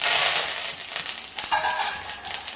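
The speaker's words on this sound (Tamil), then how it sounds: "கடுகு சேர்த்து கொஞ்சம் தாளித்து எடுத்துக்கலாம்." Mustard seeds tempering in hot oil for wheat upma, a dense, steady sizzle with scattered crackles and pops that carries on without a break.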